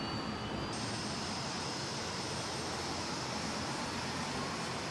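Inside the cabin of a Boeing Dreamliner on a flight to Houston, the jet engines make a steady, even roar that holds without a break.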